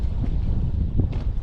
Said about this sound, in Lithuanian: labai vėjas pučia